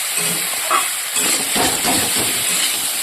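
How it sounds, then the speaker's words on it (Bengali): Potatoes and vegetable stalks sautéing in a pan, giving a steady close hiss and sizzle with small stirring scrapes rising and falling, no voices. "এদিকে আমি আলু আর ডাটাটাকে ভালো করে কষিয়ে দিচ্ছি"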